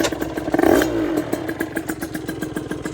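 Derbi moped fitted with an 80cc kit on a road test, a revving two-stroke burst followed by rapid clattering pulses close by.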